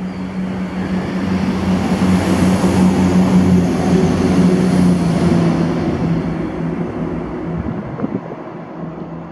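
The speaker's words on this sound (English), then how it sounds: "this is 1B44, the 1449 ScotRail service to Edinburgh from Inverness" A ScotRail train on the Inverness to Edinburgh service passes at Blair Atholl with a sustained low diesel drone and rumble that fades slightly near the end, with no voices.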